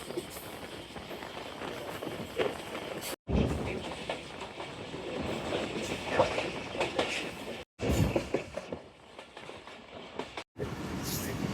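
The Shalimar Express runs at speed past a small station, with steady rumbling wheel noise and clattering rail joints throughout, broken by a few brief silent gaps.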